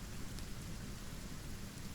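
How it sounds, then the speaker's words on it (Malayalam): Steady rain pours down with a dense, continuous hiss and a low rumble underneath, even and unbroken throughout. "മഴ ഇപ്പൊ കുറയും തോന്നില്ല."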